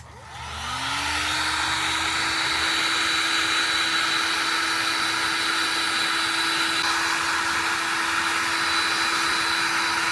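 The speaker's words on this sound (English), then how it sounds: "I don't have to turn the light off right now that I'm going to hit it with the heat gun" A heat gun blows on a foam-backed faux leather patch, starting up and then running as a steady, loud whirring roar that continues unbroken to the end.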